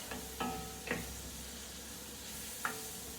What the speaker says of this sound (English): tablespoons of garlic. And I'm going to cook that for about 1 minute.